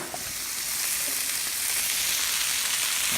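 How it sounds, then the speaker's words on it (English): Bacon-wrapped pork sirloin steaks sizzle on a griddle with olive oil, garlic and onions, a steady close crackling hiss that holds without pause. "Now, with olive oil and garlic and onions. And put it on there."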